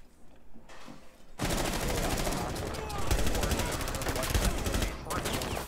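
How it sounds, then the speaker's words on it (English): Rapid automatic gunfire from Rainbow Six Siege erupts after a brief quiet start and continues densely and loudly to the end, with bursts layered over the game's background noise. "I literally shot that person in the head."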